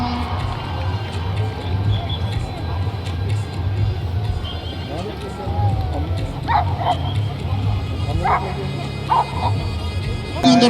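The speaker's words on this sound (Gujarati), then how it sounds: "20 જાતિના ડોગ્સ ભાગ લઈ રહ્યા છે" Dogs of twenty breeds with their handlers at a state-level 75th Republic Day dog show in Junagadh bark in several sharp, mid-distance bursts during the second half, over a steady crowd murmur and a loudspeaker voice.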